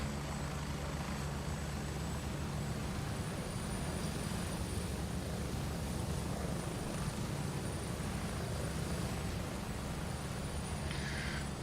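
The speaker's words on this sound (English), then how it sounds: "I don't think that's my helicopter." Helicopter in the Gray Zone Warfare video game, a steady low rotor thump and engine drone that holds at an even level throughout, with no talk over it.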